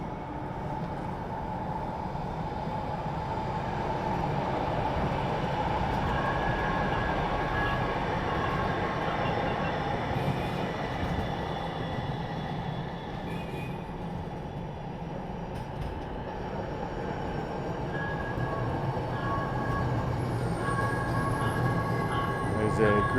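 A Blue Line light rail train in downtown Minneapolis rumbles past steadily for a long stretch, with a continuous rolling roar and faint high squeals from the wheels.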